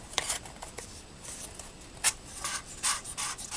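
A wooden dowel slides through taped Rolodex card pieces, giving soft dry rubbing and scraping scrapes in short irregular bursts, close and fairly quiet, with a sharper rasp partway through.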